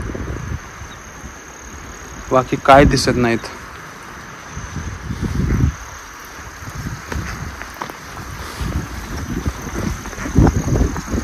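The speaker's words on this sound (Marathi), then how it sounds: "नुसता वाऱ्याचा आवाज येतोय खालून," Monsoon wind at Tikona Fort gusts up from below as a constant rushing roar and buffets the microphone, with a person speaking briefly over it and faint insect chirps in the background.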